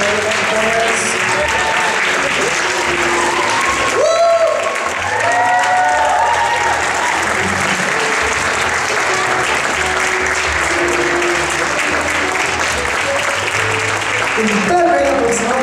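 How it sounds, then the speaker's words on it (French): A concert audience at a pop winter festival applauds the performers, a loud, sustained wash of clapping with some cheering while a voice speaks over a microphone. "I would like to invite all the performers back on stage now because they deserve a round of applause."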